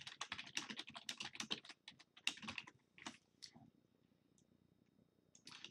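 Quick, uneven keystrokes on a computer keyboard while a sample sentence is typed into a resume, clustered in dense bursts and then thinning to a few isolated taps, close and fairly quiet.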